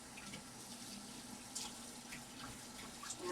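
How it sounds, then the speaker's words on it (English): A kitchen tap runs water over measuring spoons at the sink, a faint, steady hiss-and-splash that continues throughout without any speech. "And I am washing my measuring spoons."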